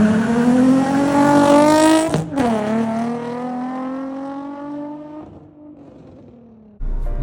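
Aftermarket Megan Racing single-exit exhaust on a Nissan 350Z with a VQ V6, loud and close as the engine revs up, holds a rasping drone, then falls back toward idle before a brief blip at the end.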